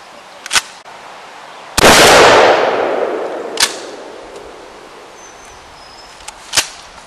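A Winchester Ranger Model 120 12-gauge pump shotgun with a buckshot choke fires Remington magnum #4 buckshot outdoors. One loud blast rolls off into a long echo, with a few sharper cracks before and after it and no speech.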